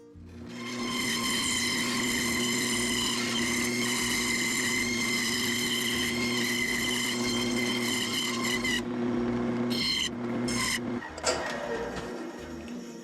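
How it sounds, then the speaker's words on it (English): A bandsaw cuts a circle in wood, its motor running with a loud, steady whine that holds for several seconds before the blade sound breaks up and cuts out near the end. "I'm going to draw out a circle on here, and then I'm going to cut it on the bandsaw"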